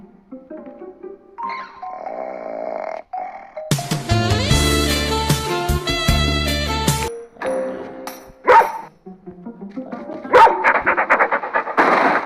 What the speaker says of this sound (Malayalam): ഗെയിം തുടങ്ങിയപ്പോൾ തൊട്ട് പട്ടി കിടക്കുന്നുണ്ട്.